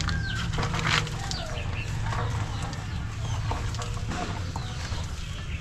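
Two laying hens near a handmade nest cluck softly and steadily close by, with brief wing flapping and scattered rustling in a busy farmyard.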